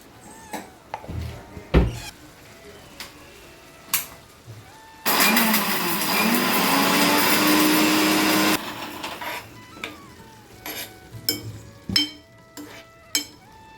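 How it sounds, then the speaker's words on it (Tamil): A kitchen mixer grinder whirs loudly and steadily for about three and a half seconds, grinding cardamom pods with sugar into powder, framed by clicks and handling noises before and after. "இந்த ஜீனிலேருந்து கொஞ்சம் எடுத்துட்டுருக்கேன் ஒரு அஞ்சாறு ஏலக்காய் போட்டு பொடி பண்ணிக்கலாம்"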